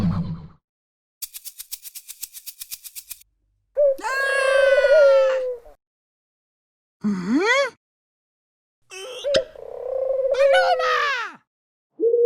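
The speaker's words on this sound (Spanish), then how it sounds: "¡Paloma!" A pigeon coos in several drawn-out, wavering calls separated by pauses, loud and close, with a short burst of rapid buzzing before them and no talking over the calls.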